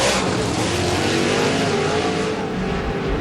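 Late model race car engines roar at Knoxville Raceway during a dirt-track national event, a continuous loud, dense engine drone of several cars in traffic with no talk.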